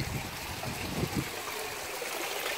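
Water runs steadily from a koi pond filter straight into an IBC tank, a continuous close splashing and trickling rush with faint gurgles throughout.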